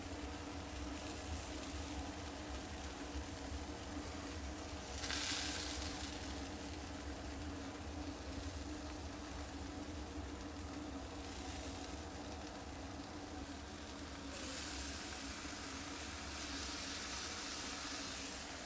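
Birria meat sizzles on a Blackstone griddle while cheesy quesa tacos cook. A soft, steady hiss of frying continues for the whole stretch, with slight swells in intensity and no talking.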